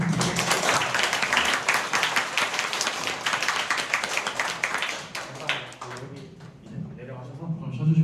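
At the close of a GDG Daegu coding event session, the audience gives a big round of applause, dense clapping that fades out after several seconds, followed by quieter room sound and a voice starting up.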